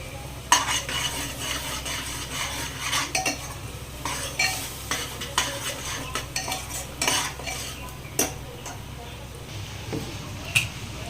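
Spice paste of turmeric, coriander powder, red chili and ground green chili sizzles and spatters in a pressure cooker, with a steady frying hiss broken by repeated sharp pops and scrapes of stirring, close and moderately loud.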